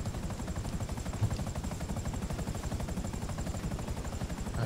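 Helicopter in the GTA 5 video game during a prison-break heist, a steady, fast rotor chop pulsing continuously and fairly loud throughout, with no talking.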